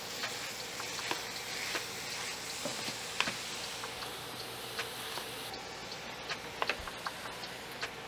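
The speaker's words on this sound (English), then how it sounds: "I'm going to add the ground turkey into the pan. And we're gonna get this nice and brown" Ground turkey browning in a pan, a soft continuous sizzle with scattered faint ticks and pops, fairly quiet and without talk.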